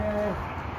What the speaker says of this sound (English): Little owls.